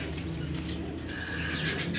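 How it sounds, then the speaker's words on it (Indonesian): Young spotted dove and zebra dove chicks give faint, soft coos and chirps with brief wing flutters, close by against a steady background hiss. "Hari ini sih mau kasih makan burung tekukur sama anakan tekukur sama anakan perkutut"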